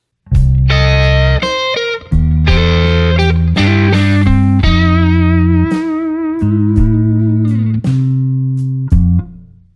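A distorted electric guitar plays a solo lick of sustained, bending notes with brief gaps, loud and up close, with no voices.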